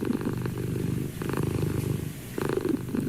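A cat purrs close up in a steady low rumbling rhythm, three long pulsing phrases with short breaths between, heard alone indoors in a radio studio.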